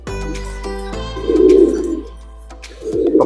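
Pigeons in a breeding loft coo up close in deep, throaty bursts, two or three swelling calls over a low steady hum.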